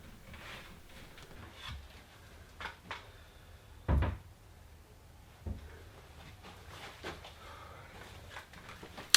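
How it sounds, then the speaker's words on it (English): Wooden hallway cabinet doors being rehung and handles fitted, with scattered light knocks and clicks and one firmer thump near the middle, fairly quiet and close with no talking. "then the doors can come back in and I can fit the handles"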